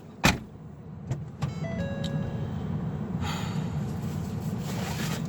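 A car engine hums steadily nearby after a sharp thump, with a faint tonal whine, then a rising rush as the vehicle pulls away.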